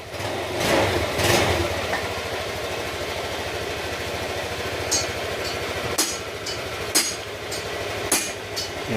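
A motorcycle engine idles steadily with a low, even rumble, broken by a few sharp metallic clicks and taps near the end.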